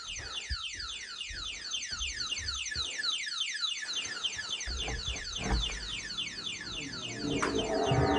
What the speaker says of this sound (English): We've got this alarm giving off for some reason.